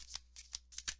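Tarot cards being shuffled and drawn by hand: four or five quick, crisp riffling flutters in close succession, near and quiet, with no one speaking.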